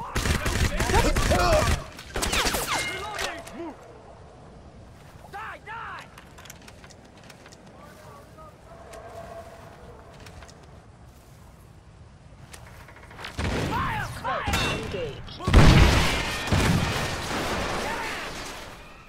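Gunfire in the first-person shooter Crysis, with bursts of automatic weapon fire at the start and again near the end, quieter combat noise in between, and voiced game callouts.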